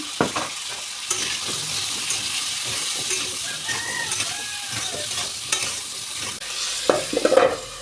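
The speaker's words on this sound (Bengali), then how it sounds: "তেলটা গরম হয়ে যাওয়ার পর দেব আমি আলু ছেড়ে।" Potatoes frying in hot oil in a kadai, a bright continuous sizzle broken by utensil stirring knocks and a small metallic rattle near the end, with no speech.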